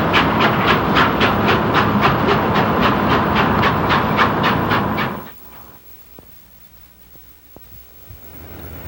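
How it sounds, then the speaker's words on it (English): N&W 611 steam locomotive pulling into a station stop at night, rapid rhythmic chuffing that stops after about five seconds, then quiet hiss and a few sharp clanks. "the train made a pretty sight as the 611 walked into the station stop"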